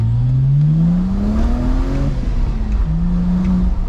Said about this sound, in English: The tone of the N54 is lovely as well. It doesn't sound artificial or forced.